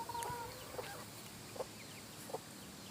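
Half-grown young chickens, hatched in an incubator, making a few short, soft chirping clucks at spaced intervals, fairly faint against a steady background hiss.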